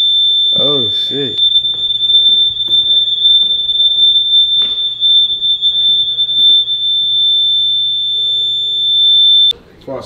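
A smoke alarm in a mansion shrills in one continuous piercing high tone for about nine seconds before cutting off, loud and close, with people talking and shouting over it.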